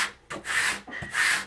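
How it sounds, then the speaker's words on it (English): A scraper tool rubs over a vinyl rhinestone template on a Cricut cutting mat in two close, raspy strokes, each back-and-forth pass scratching audibly. "I take my scraper tool"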